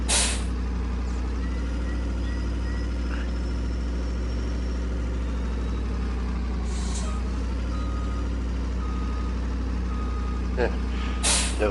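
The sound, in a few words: truck air brakes hissing on a farm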